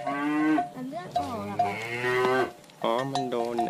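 A white water buffalo lows in long, loud, drawn-out calls close by, with a short gap between them and no talk over the sound.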